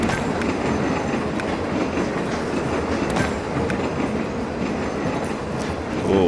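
Trains rumble steadily through a railway scene in the mobile game TrainStation 2, a continuous loud rolling clatter of wheels on track with no voices over it.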